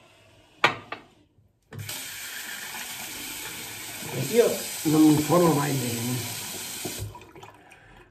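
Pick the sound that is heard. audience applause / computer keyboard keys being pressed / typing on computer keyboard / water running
water running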